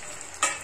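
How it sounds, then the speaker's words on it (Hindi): Potato halwa being stirred in milk in a hot pan gives a soft sizzle, followed by a short, louder scraping swish of the spoon near the end. "हम इस तरह स्टेयर करते रहेंगे जब तक ये दूध अच्छी तरह से एब्जॉर्ब ना हो जाए"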